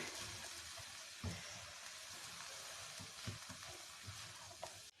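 Egg fried rice sizzles faintly in a pan while being stirred, a steady soft frying hiss broken by scattered scraping knocks of the spatula.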